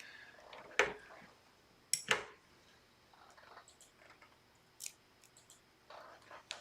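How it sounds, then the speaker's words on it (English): Scissors snip through a 3D foam square for a crafting card: two crisp, close cuts about a second apart, then softer handling clicks and rustles in a quiet room. "I'm just gonna pull one off and cut it in half"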